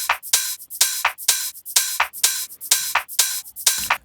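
A busy house-style top percussion loop from a sample pack, bright crisp hits in a fast, driving pattern repeating steadily and loudly throughout, with no talking.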